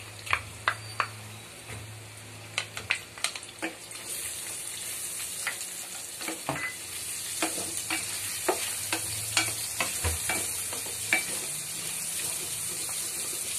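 Onions sautéing in leftover frying oil in a pan, a constant bright sizzle that intensifies after a few seconds, broken by scraping stirs and clinks of a utensil, close up and with no talk.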